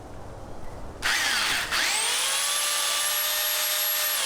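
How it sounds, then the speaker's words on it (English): A loud, steady chainsaw engine whine starts abruptly after a quiet moment, dips briefly, then holds a sustained high-pitched roar close by while cutting during a dwarf papaya tree air layer transplant. "Stay away from the chainsaw blade, okay?"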